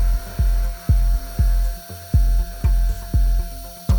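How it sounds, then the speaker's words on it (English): A carbide-tipped glass drill bit grinds against a broken drill tip stuck in a wooden jig, producing a rhythmic series of about eight scraping, catching bursts roughly twice per second, close and fairly loud. "I'll try using a carbide-tipped drill bit for glass."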